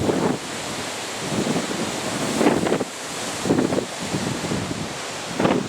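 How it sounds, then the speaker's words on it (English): A strong, cold outdoor wind gusts in surging waves, buffeting the microphone with a loud rushing roar that rises and falls over several seconds. "That is a freezing cold wind."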